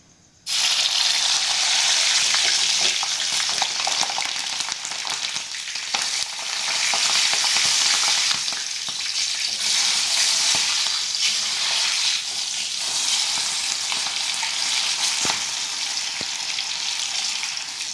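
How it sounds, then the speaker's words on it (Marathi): Halved green chillies frying in hot oil for Kolhapur-style batata vada, a steady loud sizzle and bubbling that starts abruptly and continues without pause, with faint stirring clicks and no talking. "आता आपण वड्यासाठी लागणाऱ्या मिरच्या तळून घेऊया"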